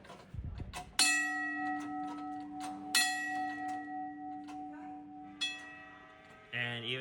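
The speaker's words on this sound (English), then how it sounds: "So this is an old bell." An old railway bell on display at the Port Adelaide railway museum is struck three times, each clear, loud clang ringing on with a long shimmering decay, followed by a brief electronic tone at the end.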